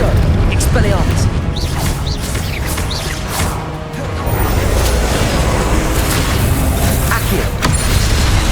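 Confringo and Expelliarmus spells burst out in Hogwarts Legacy combat, heavy booms and crashing impacts piled over a loud, dense battle din that never lets up.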